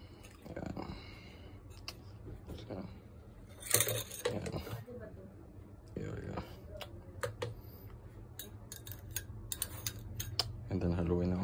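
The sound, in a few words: stirring yeast into milk in a pot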